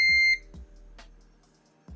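A B-Side ZT5BQ clamp meter in continuity mode gives a short, bright electronic beep, followed by a few soft low clicks and taps from handling the probes.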